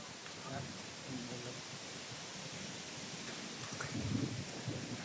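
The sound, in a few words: heavy rain outdoors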